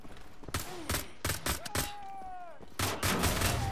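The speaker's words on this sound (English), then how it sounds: "Let's get our double pistols out now. Because we're going to town on these fools." Dual pistols blasting in the video game Wolfenstein: The Old Blood, loud sharp shots in rapid irregular bursts with ringing tails and a whining tone between, close and punchy throughout.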